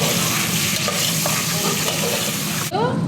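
Tomatoes frying in a pan with ginger-garlic paste, a loud steady close sizzle with a few stirring clinks, cut off by a sharp break near the end.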